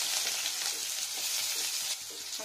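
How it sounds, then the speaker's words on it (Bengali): Potatoes frying in mustard oil with a little added water, a steady, loud broadband sizzle with faint crackles and stirring, no voices. "একটু ফ্রাই করবো।"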